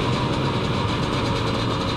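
A motorcycle settles to an idle with a four-stroke-like beat, heard as a dense, steady mechanical chug close by, with no voices.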